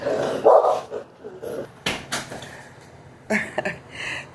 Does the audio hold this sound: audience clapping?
no